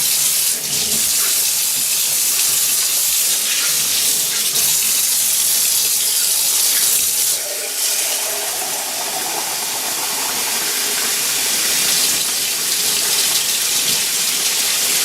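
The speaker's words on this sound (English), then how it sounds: "Obviously I don't want this paint anymore, so I'm just going to wash that down the sink." Tap water runs steadily and loudly into a sink, washing paint away, a continuous gushing hiss with no voices.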